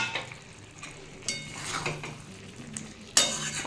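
Green jackfruit and fried potatoes are stir-fried in a pan under a soft sizzle. A spatula scrapes and clinks against the metal in irregular strokes, ending with a sharper knock, close and without voices.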